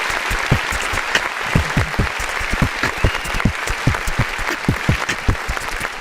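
A sustained applause sound effect, dense rapid clapping at a steady, fairly loud level throughout with no voices over it.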